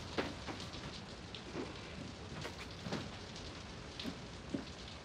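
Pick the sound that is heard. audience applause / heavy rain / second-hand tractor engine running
heavy rain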